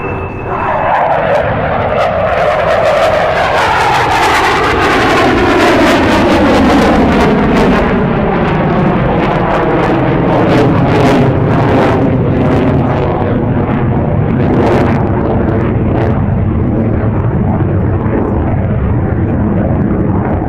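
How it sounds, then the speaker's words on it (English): An F/A-18C Hornet fighter jet flying a pitch rate demo at the 2012 NAS Oceana Air Show, a loud, sustained roar that sweeps and shifts in pitch as the jet passes overhead, with no talk. "This is the A-18 Hornet pitch rate demo."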